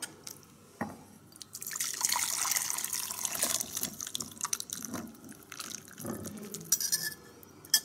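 Water pours and drips into a cooking pot while vegan ramen is made, with irregular splashes, drips and light clinks of the pot close by.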